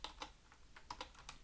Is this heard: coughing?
no